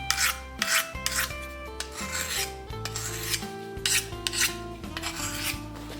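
A knife blade is drawn over a sharpening surface in repeated rasping strokes, close and fairly loud, about six to eight passes in quick succession over a steady musical background.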